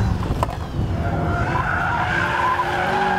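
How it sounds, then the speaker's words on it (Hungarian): A car being driven hard on a race track during lap timing, tires skidding and squealing in a sustained, steady rasp over a continuous engine drone, fairly close and loud throughout. "Végre van autónak hangja megint, hogy hallom, hol jár."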